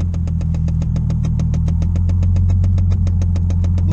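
A Nissan Skyline R33 GTST tuned to 600 hp idles, heard from inside the car: a loud, steady, deep engine rumble with a fast regular pulsing throb and no speech.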